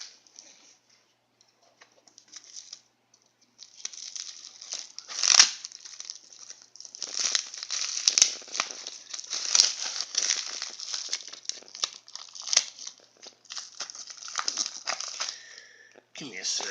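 Lego packaging is opened with scattered crinkles and sharp plastic rustles, quiet and close, starting sparse and then coming in dense irregular bursts.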